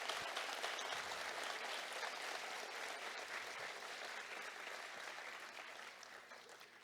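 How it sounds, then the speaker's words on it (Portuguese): An audience at a congress applauds steadily, a dense wash of clapping that carries on for several seconds at an even level with no voices over it. "peço uma salva de palmas a esse colega Mário Macieira."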